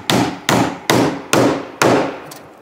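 Old rusty nails are hammered into a wooden board in five sharp, loud strikes at a steady rhythm of about two per second, each blow ringing briefly before the next.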